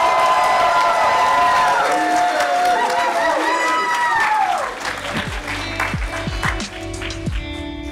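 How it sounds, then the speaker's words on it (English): An audience at a film festival gives the MCs a round of applause, loud clapping mixed with cheers and whoops that fades after about five seconds, leaving scattered voices and chatter. "Let's give our MCs a round of applause"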